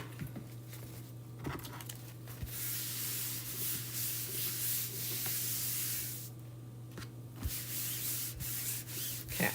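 A chalkboard is wiped with a wipe in steady, soft rubbing strokes close by, a continuous scrubbing hiss that pauses briefly between passes over a low background hum, with no talk.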